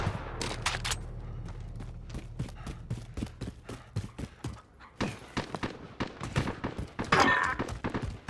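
Rapid bursts of light machine gun fire in Call of Duty: Modern Warfare, sharp close shots in quick uneven strings with brief pauses, ending in a denser burst, heard alone without talk.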